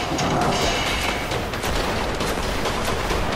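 Dense, continuous bursts of loud video-game cannon fire and explosions pile up without pause, a chaotic barrage of shooting sounds.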